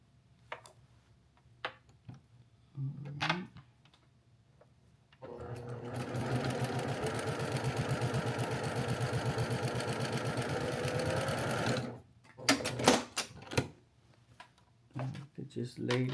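A sewing machine stitches a quilt block for a charity quilt, running steadily for about six seconds at close range, framed by brief fabric handling and small clicks before and after.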